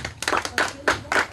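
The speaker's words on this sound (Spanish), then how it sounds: "Aplauso para ella" Small group clapping for a young girl dressed as a clown at the end of a contest, in four short bursts of hand claps spread across a little over a second.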